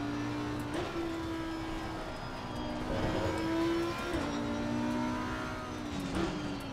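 A race car engine in Assetto Corsa Competizione howls steadily at high revs, its pitch climbing and dropping sharply through quick gear changes, close and continuous with no talk.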